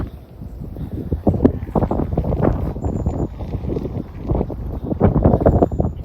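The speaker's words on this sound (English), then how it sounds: "Really windy this morning." Gusty outdoor wind buffeting a microphone on a windy morning beside a classic Porsche Boxster 986, a loud, rumbling, uneven roar that swells and dips throughout.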